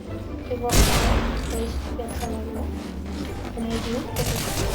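Bursts of pistol fire in the Fortnite video game crack out loud and close in rapid succession, while players chatter and talk over the game sounds.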